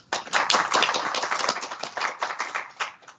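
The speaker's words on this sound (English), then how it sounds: "can we please give you a round of applause for that?" A round of applause at an academic event on higher education and research, heard as a thin, moderately quiet patter of clapping that carries on for a few seconds before tapering off.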